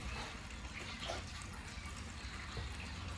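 Fibreglass resin poured from a height, giving a quiet, continuous liquid stream that splashes steadily for the full few seconds with no talk.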